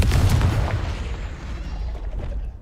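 A Confringo explosive spell goes off in the Hogwarts Legacy video game: a loud, booming blast with a deep rumble that slowly fades and decays over a couple of seconds.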